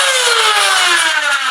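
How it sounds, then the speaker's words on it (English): The flywheel motor of a Nerf AK-47 blaster revs as a loud, close, steady whine that slowly drops in pitch as it spins down over a second or so. "The rev trigger works on its own. It will rev the blaster on its own."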